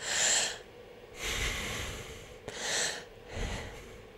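A breath is drawn in while the chest lifts, with two pairs of audible airy sounds: a hissing intake followed by a softer, lower rush, repeated twice with short pauses, close up and without talk.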